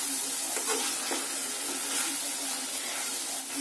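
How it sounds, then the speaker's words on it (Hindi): Masala paneer with crushed kasuri methi is mixed in a pan, giving a soft, even sizzle with a few light stirring scrapes at low level and no talk. "ये कसूरी मेथी मैंने क्रश करके डाल दी है इसमें, और इसको मैं अच्छे से मिक्स कर रही हूँ।"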